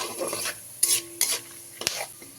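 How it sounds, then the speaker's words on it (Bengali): Whole cloves, cinnamon pieces, bay leaves and cumin seeds sizzle softly in hot oil while a utensil scrapes the pan in a few distinct, quick strokes. "এবারে মশলাগুলোকে ভালো করে ভাজা ভাজা করে নিতে হবে"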